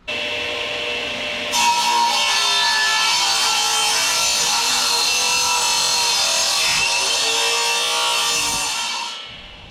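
A saw bites into wood for a cabin build, starting abruptly and holding a loud, steady, rasping cut for about eight seconds before winding down to silence.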